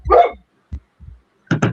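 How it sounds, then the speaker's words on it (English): A dog barks close by in a quick series of four sharp barks with short gaps, clear and loud with no talking over it. "my dog's barking"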